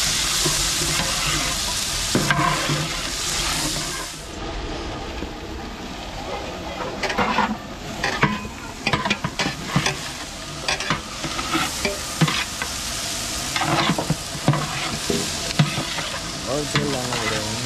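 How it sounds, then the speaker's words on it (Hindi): Egg bhurji frying and sizzling in oil in a pan, with a large batch stirred steadily; scraping and clattering spatula strokes repeat over the constant sizzle, and a voice is heard faintly in places. "ऐसी ही बुर्जी आप लोग बना लेना भाई, बहुत जबरदस्त बुर्जी बनेगी आज"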